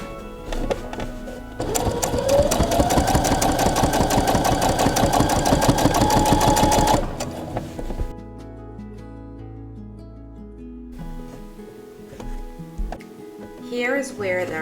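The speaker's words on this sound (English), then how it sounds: "Here I'm sewing about 1/8 inch in" A sewing machine stitches curtain lining near the edge for a coastal-style curtain, running in a fast, steady burst of about five seconds, then stopping; someone speaks in the quieter stretches afterward.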